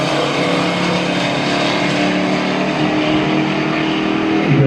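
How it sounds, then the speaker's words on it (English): Drag racing cars at the Pontiac Nationals 2024 running side by side down the strip to the finish line, a loud sustained engine roar heard from nearby that continues without a break. "side-by-side race, but that's all Garlow at the finish line"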